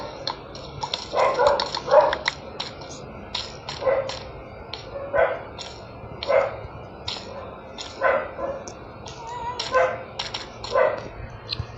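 A Minecraft Bedrock Edition dog barks repeatedly in short, evenly spaced yips over a steady game background, loud and close, continuing throughout.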